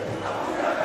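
Esports arena crowd at a Counter-Strike major match roars in a dense, sustained wash of cheering and shouting during a close comeback.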